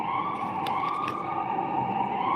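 Emergency sirens wailing outside, a loud continuous rising and falling tone with a faint rumble of traffic underneath.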